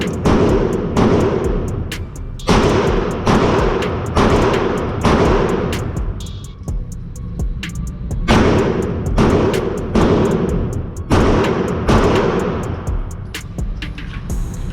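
Glock 43X pistol shots fired at a target, about eight loud booming reports spaced roughly a second or two apart, each ringing out with a long decaying echo.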